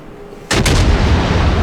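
A warship's naval gun fires high-explosive shells in the World of Warships naval combat game: a single heavy, close boom bursts out of quiet and rumbles on with a short echo.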